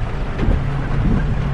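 Dense, steady roar of heavy typhoon rain pouring down during flooding in the Philippines, with a low rumble underneath and no voices.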